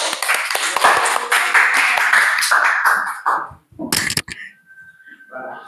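A school class claps for a group that has just finished its presentation. The applause is dense and fairly loud at first, tapers off after a few seconds, and is followed by brief voices.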